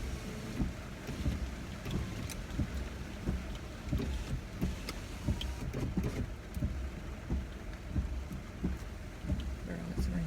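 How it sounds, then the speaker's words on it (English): Rain falls steadily on a car in a broadband wash, with faint thumps and taps throughout and a low rumble underneath, fairly loud and continuous. "it's raining"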